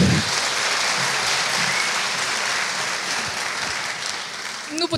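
An audience applauds at a university chemistry graduation ceremony, with dense, sustained, loud clapping filling the whole stretch and no voices over it.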